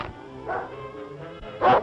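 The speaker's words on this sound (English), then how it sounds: "Duke, this is my dog." A couple of short dog barks, the second louder and closer, over a faint background hum with no talking.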